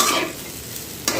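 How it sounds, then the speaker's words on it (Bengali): Potatoes fry in a home kadai with a dense, close sizzle that fades slightly, then a single sharp scrape of a spatula near the end. "আলু ভাজছি"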